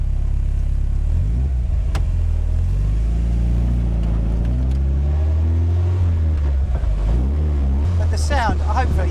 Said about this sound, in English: hopefully you can hear that exhaust rasping away